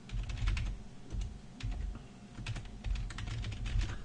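Code is typed on a computer keyboard in steady bursts of close, crisp key clicks with short pauses between them, with no voices.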